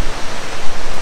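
A hillside waterfall near Pelling, Sikkim, in light rain, heard as a loud, close, steady roaring rush of falling water that fills everything.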